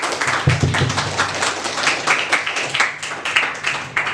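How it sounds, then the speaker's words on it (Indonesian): Schoolchildren in a classroom clap for a classmate who just finished reading the news aloud, a close, uneven patter of small hands pulsing in bursts. "Beri tepuk tangan anak-anak."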